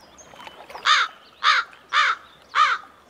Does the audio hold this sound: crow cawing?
yes